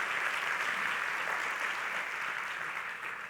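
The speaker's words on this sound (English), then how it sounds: "So big round of applause for Linda and Peggy" Conference audience in a room applauding steadily, a continuous dense roar of clapping at moderate, slightly distant level, tapering a little at the end with no voices over it.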